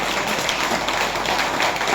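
Steady audience applause from a crowd clapping to honour freedom fighters, a continuous dense patter of many hands at even loudness throughout, with no talk over it.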